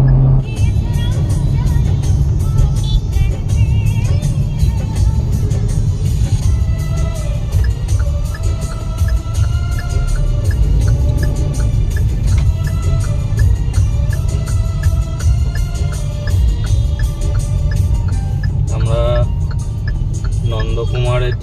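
Car driving on the road from Behala to Mandarmani in West Bengal, a steady loud engine and road rumble throughout with music playing and a voice talking over it.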